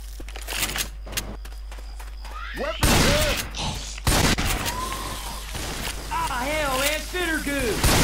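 Gunfire in Left 4 Dead 2 rattles in quick bursts at first. Other loud game sounds and whistling tones follow, and a voice is heard in between.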